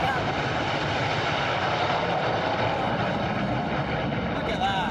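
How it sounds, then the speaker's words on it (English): Loud, steady roar of aircraft flying overhead during the coronation of King Charles III, mixed with a cheering crowd and voices throughout. "they can hear the planes coming overhead"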